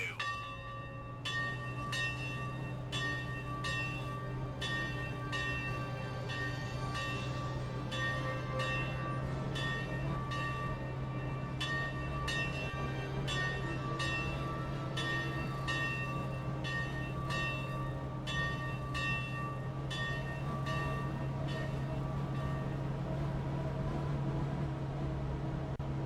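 Runaway Mine Train ride in the video game Virtual Towers Online: a steady low rumbling drone of the coaster train running on its track, with a regular series of sharp metallic clacks and rings repeating across the ride, no talk.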